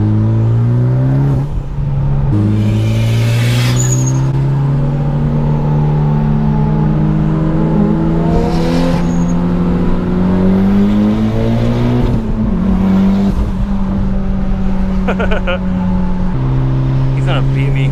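A car races on a highway, its engine revving and accelerating through gear changes in a loud, steady roar with rising pitch sweeps, heard close from inside. Brief bursts of other noise cut in over the engine.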